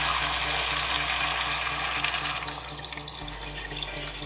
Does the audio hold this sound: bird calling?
no